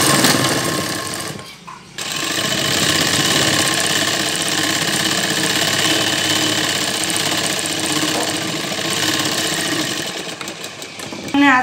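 A sewing machine runs a straight seam through a baby's Afghani salwar, joining the waistband to the seat panel. The motor whirs loud and steady almost throughout, pausing briefly near the start before it resumes its continuous rattling hum.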